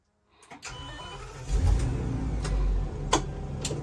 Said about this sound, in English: I'm going to restart the bus.